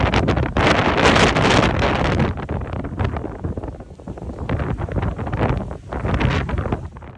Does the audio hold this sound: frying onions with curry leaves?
no